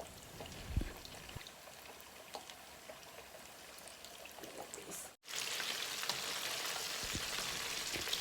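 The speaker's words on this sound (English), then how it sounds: "when the oil is hot, we just add the fish in and cook until it's a brown" Fish frying in hot oil in a Thai-style home kitchen, a steady crackling sizzle throughout that swells brighter and louder after a brief pause, with no talking.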